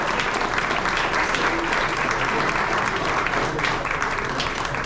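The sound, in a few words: audience applause for the coaches' families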